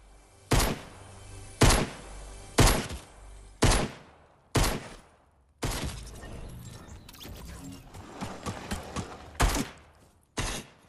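A sentry fires shots at the player in the video game Aang's Journey, a series of sharp, loud bangs at a steady beat, followed by a denser burst of crackling impacts and a final shot.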